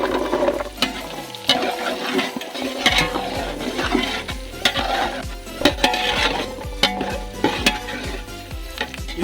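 Onions sauté in a pan with a soft sizzle while a utensil stirs them, scraping and clinking against the metal in an irregular rhythm, close and fairly loud.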